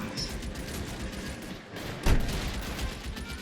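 Gunfire in L.A. Noire, a 1940s Los Angeles detective game, mostly a muffled rattle under game noise, with one sharp, louder shot partway through.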